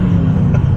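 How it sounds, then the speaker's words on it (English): A Mercedes C43 AMG widebody built as a street-legal DTM-style racecar accelerates hard. A loud, continuous engine and exhaust rumble holds steady throughout with no speech. "I just think if it had a little bit more actual exhaust noise, that would really liven up the car a bit."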